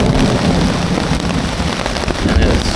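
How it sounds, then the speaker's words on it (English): Heavy rain pounds down steadily on a campsite in a pre-dawn thunderstorm, a dense, continuous roar of drops close by, with low rumbling underneath and no voices. "Well, the rain's finally made it."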